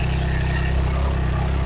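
A Triumph 660 motorcycle engine running steadily at high revs, a dense, continuous mechanical roar heard close up with no voices.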